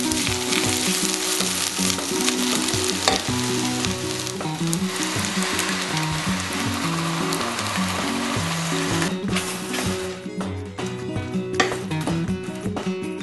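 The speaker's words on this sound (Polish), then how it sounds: "Pokrojona kiełbasa w talarki ląduje do garnka. Chwilę ją dusimy, rumienimy" Steady, loud sizzling of sliced sausage frying in a pot, with occasional stirring scrapes and clicks running continuously throughout.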